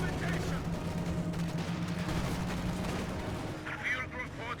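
A Company of Heroes 2 M10 tank destroyer fires its gun, the shot's boom blending into dense continuous battle noise of gunfire and explosions, with a voice talking over it.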